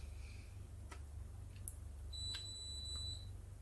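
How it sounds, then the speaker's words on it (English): A household dishwasher finishing its cycle gives a long thin electronic beep from across a quiet room over a low steady hum, with a few faint clicks around it. "there will be my dishwasher. it will be beeping a few times"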